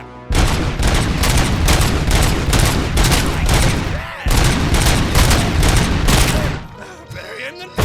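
Sustained heavy gunfire from the RoboCop: Rogue City video game, a loud, dense automatic barrage with one brief pause partway through before the shooting resumes and then tapers off.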